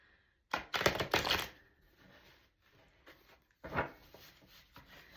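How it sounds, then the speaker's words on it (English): Cards shuffled during a reading session, heard as two short bursts of rapid riffling flutter, the first longer and louder, the second briefer after a quiet gap, close and alone without talk. "I'm going to shuffle one more time"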